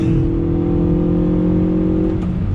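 A 2020 Hyundai Veloster Turbo engine roars steadily at high revs, then its pitch dips and blips briefly as the driver brakes and shifts down, loud and close throughout.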